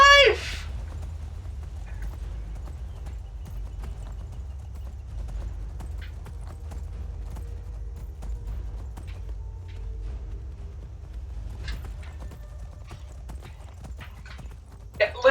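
A horse gallops in the video game Skyrim, its rhythmic hoofbeats clopping steadily and close, with a brief whinny-like burst at the start and short sharp game sounds scattered over the gallop.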